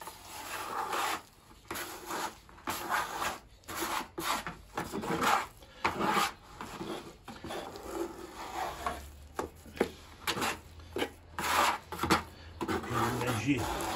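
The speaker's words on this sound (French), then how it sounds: "Maintenant, on va gratter." Hand scraping of old grout joints between swimming pool tiles, a series of irregular rasping strokes with short pauses, fairly quiet and close.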